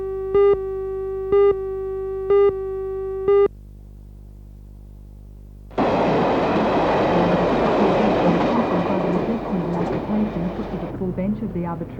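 Four short tonal horn blasts sound at an even spacing, then a brief lull before a coal train rolls past on the rails with a loud, broad rumble of wheels and cars that continues to the end.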